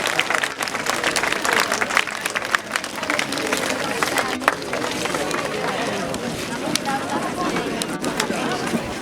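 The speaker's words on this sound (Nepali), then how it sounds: "यहाँहरू सम्पूर्णले एकचोटि ताली बजाइदिन म हार्दिक अनुरोध गर्न चाहन्छु।" A crowd at a memorial ceremony in a national martyrs' park claps to welcome a government minister, with sustained, dense applause mixed with chatter and a voice speaking over it.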